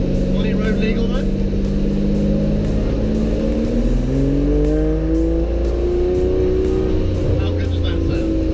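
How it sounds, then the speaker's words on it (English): A loud Aston Martin GT12 racing car engine drones and revs continuously while driving through town, with rising and falling pitch as it accelerates and shifts, close and dominant throughout. "Through town in a racing car. It's quite loud."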